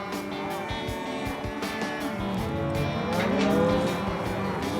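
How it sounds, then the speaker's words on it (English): Many cattle moo steadily while cows are separated from their calves, with overlapping calls near and far and no talking. "Right now, Josh and Johnny and Caleb are separating the cows from the calves."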